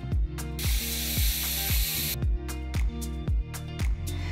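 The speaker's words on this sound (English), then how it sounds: "now I'm going to drill the holes." A power drill bores pilot holes into a wall for an outdoor cinema wall in a run of short, evenly spaced bursts, each one loud and close with a brief gap in between.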